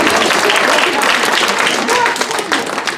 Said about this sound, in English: Yourselves a round of applause.